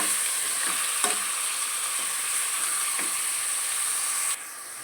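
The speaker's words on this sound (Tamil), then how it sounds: "ஒரு அஞ்சு நிமிஷம் நல்லா வணக்கி விடலாம்" Mutton sizzles steadily in hot oil, a constant loud frying hiss with a few soft scrapes of stirring, then the sizzle drops abruptly near the end.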